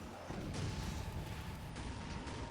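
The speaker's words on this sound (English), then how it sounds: "Huge explosion in the centre of those Hekatari Witches." A huge explosion bursts amid Dark Eldar troops in the real-time strategy game Dawn of War, a dense, sustained rumbling blast over continuous battle noise.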